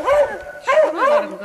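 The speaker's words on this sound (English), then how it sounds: "And dogs are going bananas." Dogs bark and yelp excitedly during a hare rescue beside road work: three close, high, whining barks in quick succession, loud and near.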